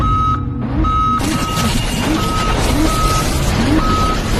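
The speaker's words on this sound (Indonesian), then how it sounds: "Thomas dan kawan-kawan pun dikejutkan oleh alarm peringatan bahaya" A spaceship's danger warning alarm sounds in a science-fiction film, a high electronic beep repeating at an even pace over a loud, continuous rumbling background.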